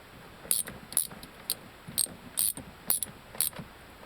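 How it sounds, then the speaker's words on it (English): A ratchet socket wrench clicks in short bursts while adjusting a Land Cruiser seat, about eight evenly spaced ratcheting strokes, close and crisp. "I got my socket on here now, and I can adjust this thing."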